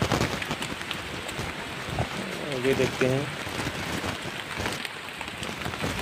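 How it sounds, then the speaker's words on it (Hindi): Light rain falls steadily on a mountain trail on the Parasnath pilgrimage route, a soft, continuous patter that runs under close conversational speech. "अभी बारिश तो बंद हुई है, हल्का पड़ रही है बारिश से"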